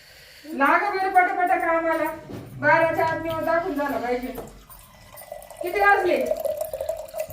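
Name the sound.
water filling from tap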